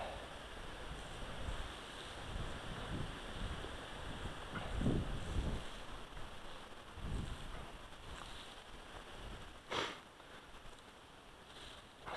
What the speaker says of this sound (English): Some days the wind helps. The wind is out of the south today.